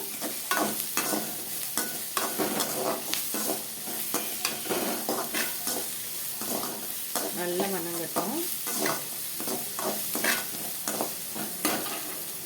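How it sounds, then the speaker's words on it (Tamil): Sliced large onions sautéing in a pan, a continuous sizzle broken by frequent rhythmic scrapes and clatters of a spoon stirring them, close and fairly loud. "கொஞ்சம் வெங்காயம் வந்து ஒன்று வெட்டிக்கோங்க வெங்காயம் நல்லா வணங்கட்டும்"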